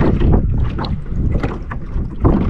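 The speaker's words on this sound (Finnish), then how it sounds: "Täällä vähän tuulee. Pientä aallokkoa sellaista liplatusta." Wind buffets the microphone on a boat out on a lake, with small waves lapping and splashing close against the hull in a continuous, loud wash.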